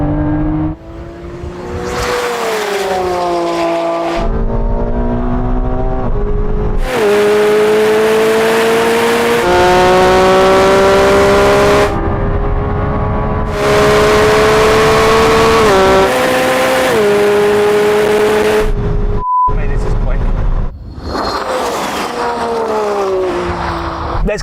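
Lamborghini Revuelto and McLaren 750S accelerating hard in a roll-on race, engine notes climbing through repeated gearshifts, loud and close with brief breaks between pulls.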